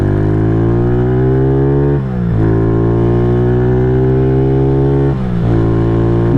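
KP Mini 150 motorcycle with a new muffler, engine running loud and close under steady throttle with strong harmonic drone, dipping briefly twice as revs shift before climbing again.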